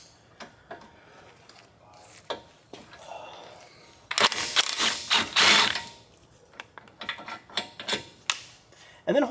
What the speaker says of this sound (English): I would use a breaker bar because they're going to be on pretty good, but a breaker bar makes short work of them.